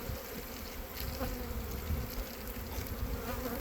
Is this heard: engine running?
no